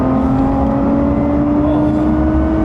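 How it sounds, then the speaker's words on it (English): A Lotus Evora 400 engine holds a loud, steady high-rpm drone from inside the cabin as it sits at the rev limiter, a constant tone with no voices over it. "Oh, I hit the rev limiter."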